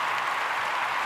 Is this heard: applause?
yes